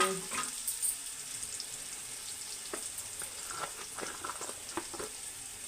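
Oil sizzles steadily in a pan while cooking Nellore fish curry, with soft scattered stirring clicks over a constant hiss.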